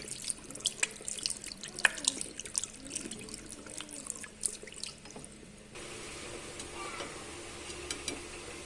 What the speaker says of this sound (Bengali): হাতটা ভালো করে ধুয়ে নিই